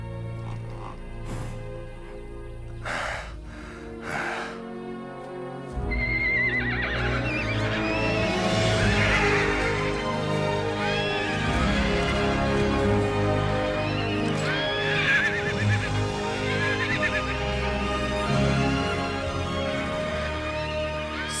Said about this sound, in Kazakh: Сарбаз, мына жабай атты байла.